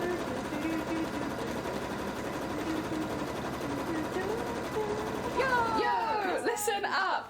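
A sewing machine runs a continuous zigzag stitch along a fabric edge to keep it from fraying, a steady mechanical whir at moderate volume, with brief louder clatter near the end.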